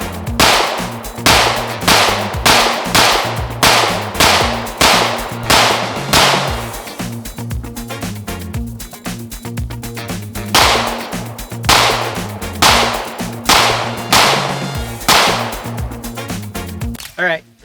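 Rapid bursts of Tisas PX-9 Duty Comp 9mm pistol fire at an outdoor range, sharp loud cracks in fast strings with brief pauses between groups, carrying on for a long stretch.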